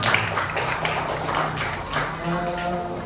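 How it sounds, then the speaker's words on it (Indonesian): Children in class clap for a classmate, a quick run of light, scattered hand claps close by, with a voice talking over part of it. "Tepuk tangan dulu untuk Kak Deva."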